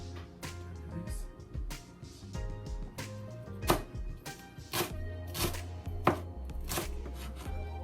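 A knife chops food small on a board, with irregular sharp close knocks coming in quick runs and pauses over several seconds.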